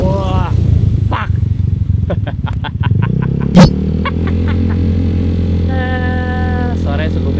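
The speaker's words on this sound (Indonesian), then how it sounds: "pas gas habis itu semakin kencang loh bunyi backfire-nya" A Honda Vario scooter fitted with an aftermarket ECU revs hard near the microphone, its engine rising and falling with a sharp popping backfire burst midway, then settling into a steady drone.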